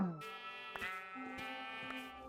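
A sheep bleats in Minecraft: one drawn-out, wavering bleat, clear and close, alone against a quiet backdrop.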